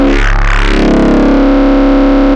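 Wavetable engine in UVI Rumble producing a loud, gritty sustained synth tone whose timbre morphs and sweeps early on, then holds a steady distorted drone before cutting off abruptly.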